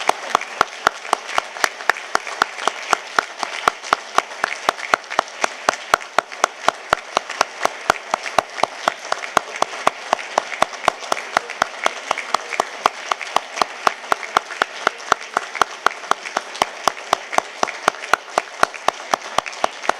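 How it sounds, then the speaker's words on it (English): Sustained applause from an audience at the 2019 Caswell Awards honoring standing award recipients, steady and dense throughout with a regular sharp clap-like pulse cutting through the whole stretch. "so we may give them a huge round of applause"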